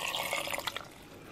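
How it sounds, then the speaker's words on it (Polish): A little water trickles and splashes briefly into a mixing bowl or mixer while a dog treat mash is prepared for lick mats and Kongs, a soft, quiet pour lasting about a second. "że dolejemy tutaj troszeczkę wody."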